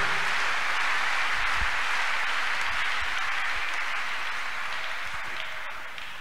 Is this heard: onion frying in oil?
no